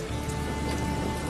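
Heavy rain pours down in a dense, loud, unbroken hiss, close and steady throughout, with no voices.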